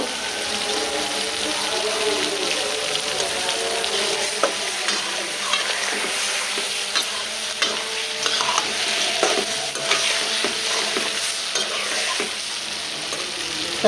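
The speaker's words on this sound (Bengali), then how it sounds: "লাল লাল করে ভাজা ভাজা কত বড় বড় গলদা চিংড়ি" Large giant freshwater prawns sizzle steadily in a hot pan, a continuous close crackling hiss with occasional scraping stirs and light clicks.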